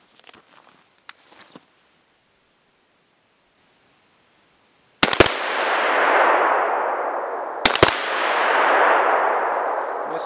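A Fabarm P.S.S.10 shotgun loaded with 8.6 mm lead shot fires twice outdoors at about 15 metres, each sharp, loud blast followed by a long, broad rolling echo that fades slowly, after a few faint clicks and handling noises.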